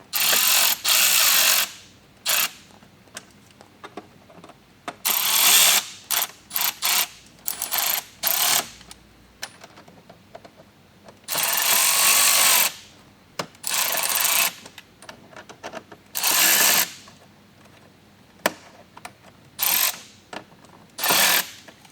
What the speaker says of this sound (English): We're going to take our Phillips head screwdriver. We're going to snug all of these down as well.